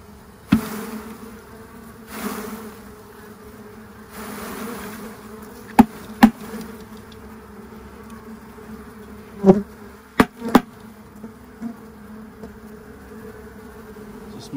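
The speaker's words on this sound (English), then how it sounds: "there's still a couple thousand bees down in there" Steady low buzzing of a small honeybee colony inside a hive box, continuous and close, with a few sharp knocks and taps scattered over it.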